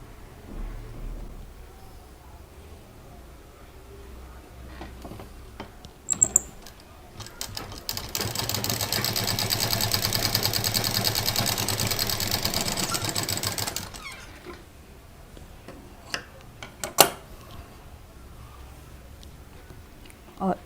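A sewing machine stitches star patchwork pieces together in a steady, fast whirring run of several seconds, framed by quieter handling clicks and soft talk before and after.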